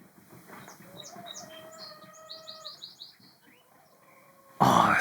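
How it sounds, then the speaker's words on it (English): Several birds chirp and tweet in short repeated phrases after a heavy spring snowfall, fairly close and clear, ending with a sudden loud rustle. "Do you hear those birds? Listen."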